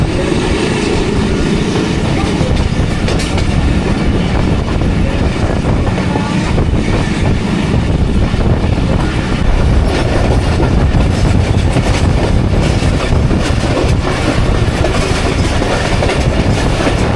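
The Jaffar Express passenger train rolls steadily on rails between Attock and Rawalpindi, a loud, continuous rumble with rhythmic clickety-clack of wheels, heard from on board.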